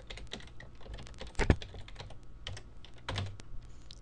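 Close, quiet typing on a computer keyboard, an irregular patter of key clicks with a couple of heavier thumps, as if from a spacebar or enter key, while logging in on an Ubuntu machine; no speech.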